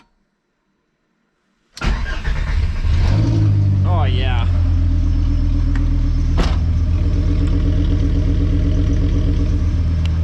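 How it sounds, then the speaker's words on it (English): A Volkswagen MK4 Bora Wagon with a VR5 engine cranks and fires up after silence, settling into a loud, steady idle with a brief rev; a voice speaks briefly over it. "I think we should end off with a little VR5 sound"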